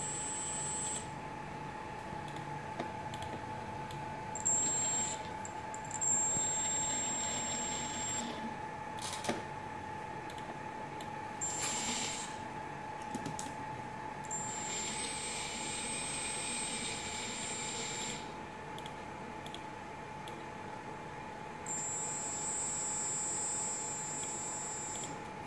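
Motors on a Tarot Robocat 250 drone spin steadily during CC3D setup, a constant high whine with a faint hum underneath, while a voice speaks intermittently nearby.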